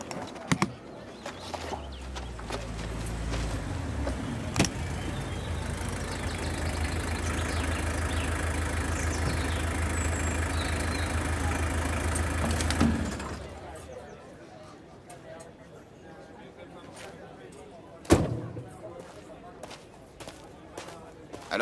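A motorcycle engine idles steadily and fairly close for about thirteen seconds before cutting off, leaving quieter room sound and a few sharp knocks, with voices nearby.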